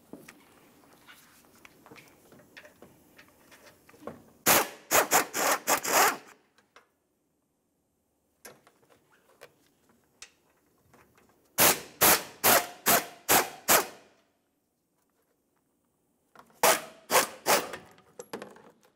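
Bursts of rapid ratcheting on the 16 mm headed bolts of a sway bar bracket on a 2007-2018 Jeep Wrangler, three loud clusters of quick clicks separated by quiet pauses with faint handling noise between.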